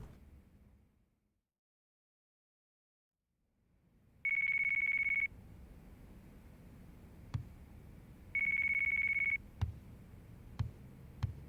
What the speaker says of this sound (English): Wake up phone call.